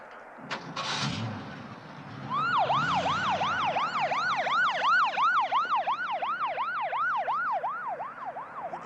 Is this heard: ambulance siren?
yes